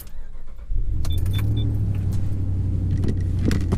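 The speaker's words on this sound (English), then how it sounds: "I'm going to go ahead and start the vehicle." A car engine cranks and catches after a short pause, settling into a steady low idle rumble close by, with a few faint chimes and clicks from the dashboard.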